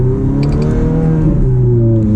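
Ferrari F430 Spider from 2006 in sport mode, its engine droning loud and steady with harmonic lines dipping and climbing through gear shifts near 5,000 RPM, heard close from inside the car.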